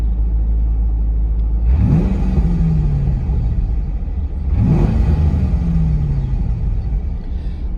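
A warm, stock 2003 Chevrolet Corvette Z06 V8 idling steadily, with two loud revs that rise and settle back to a deep rumbling idle, close by and without talk.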